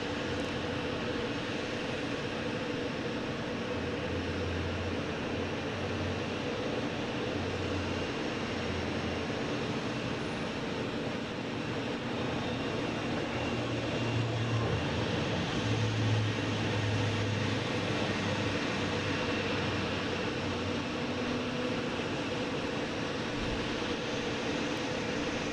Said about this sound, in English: Next taking off is Porter heading to Toronto,